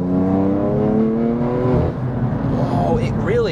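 A heavily modified BMW M4 CS engine revs hard and climbs in pitch, loud and close, then drops as voices talk over it.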